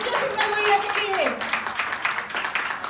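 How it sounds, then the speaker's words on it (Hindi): An audience claps for a speaker at an Independence Day yoga event, a steady spatter of applause from a group that goes on through the moment, mixed with talking. "जरा जोरदार तालियां करिए सिंगल भैया के लिए"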